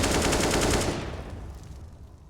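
Rapid rifle fire in a Counter-Strike match on the Nuke map, a quick burst of close automatic shots that cuts off and decays into fading echo.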